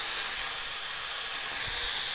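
Butter sizzles in a hot pan beside a searing steak, a loud, steady hiss that fills the clip from start to end with no talking.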